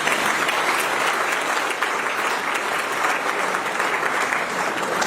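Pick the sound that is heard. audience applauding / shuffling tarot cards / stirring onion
audience applauding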